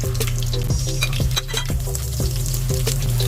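Potatoes sizzle and crackle steadily in a hot pan of oil, close and continuous, with light clinks of a utensil stirring against the pan.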